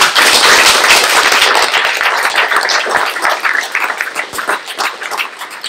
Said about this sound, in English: I think Ellery Shem deserves a round of applause.